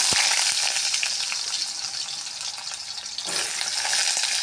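Potato pieces fry in hot oil with cumin seeds and a little turmeric for a thin egg curry, a loud continuous close sizzle that dips slightly, then surges again near the end.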